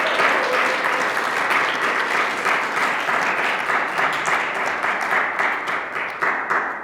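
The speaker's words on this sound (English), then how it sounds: "So let's give a big clap." A community gathering gives steady, warm applause welcoming Michael Last, many hands clapping together in a full, sustained wash that holds for several seconds before easing slightly at the end, with no talking over it.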